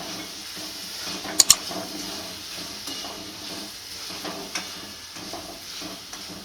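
Boiled green peas are stirred into an onion tomato masala in a pan, with a soft, continuous sizzle, scraping stir sounds and two sharp clinks of a spoon against the pot.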